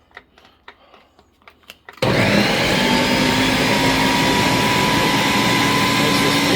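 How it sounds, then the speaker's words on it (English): A Ninja blender whirs loudly and steadily through green pozole sauce, a dense continuous roar that starts abruptly after a few soft clicks and knocks and holds without a break. "Ninja, really good blender"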